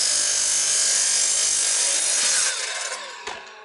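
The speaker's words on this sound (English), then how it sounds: "Gotta love a sliding compound miter saw." A sliding compound miter saw slices through a wooden sill plate in one steady, loud cut lasting about two and a half seconds, then the blade spins down and a short knock sounds as the cut ends.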